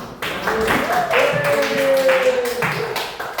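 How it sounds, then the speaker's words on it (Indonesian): Children in an Indonesian classroom clap their hands together in a brief, dense burst, with a teacher's voice and pupils' voices running over the clapping. "Ya, tepuk tangan."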